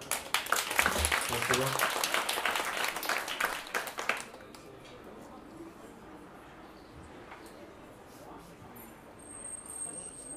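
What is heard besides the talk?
audience applause at a harp and jazz concert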